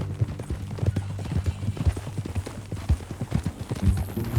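Horse hooves clip-clop in a steady walking rhythm in the video game Red Dead Redemption 2, close and clear, continuing throughout without pause.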